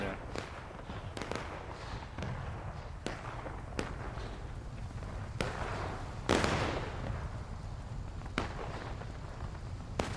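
Gunfire in the video game War of Rights, a 1776 event battle: scattered sharp reports at uneven intervals, some nearer and louder, over a steady rumbling backdrop of distant battle noise.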